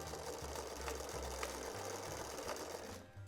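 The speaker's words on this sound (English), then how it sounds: "we're going to stitch right along that line, back stitching at the beginning and end of that line" A sewing machine stitches a straight line along a fabric dining scarf, its motor whirring steadily with quick needle chatter and brief pauses for back stitching, close and alone without voices.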